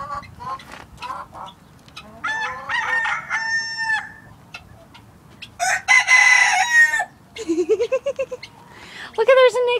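Several roosters crow loudly and close by in a chicken enclosure, with repeated overlapping cock-a-doodle-doos and some clucking. Bursts come in uneven waves, and people's voices are heard among the birds.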